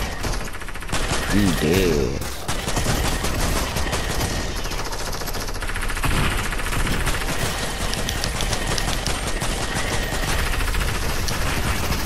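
Rapid gunfire from a shooter video game in Fiend Slayer mode, dense sustained bursts of shots running nearly the whole time, with players talking over the shooting.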